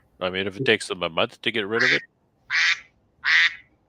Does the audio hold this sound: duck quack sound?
yes